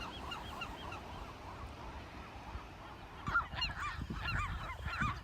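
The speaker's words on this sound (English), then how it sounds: "More birds." Gulls and other seabirds call on Anacapa Island, a continuous chorus of honking, squawking cries from a large colony that grows louder and busier toward the end, with no talking.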